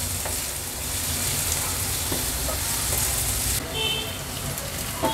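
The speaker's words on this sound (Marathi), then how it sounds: "ह्याच्यामध्ये आपण आलं लसूण क्रश ॲड करणार आहोत। मीडियम फ्लेमवरच मी हे 1-2 मिनिटासाठी परतून घेते छान" Onion sizzles and fries with crushed ginger and garlic in a pan over a medium flame, a steady close hiss with faint stirring scrapes, carrying on evenly without talk.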